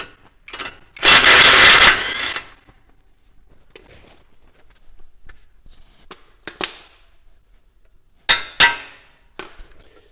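A rubber hammer knocks on car steering parts: scattered, sharp close knocks, with a pair struck in quick succession near the end. They follow an earlier rushing burst of noise, with quiet gaps between.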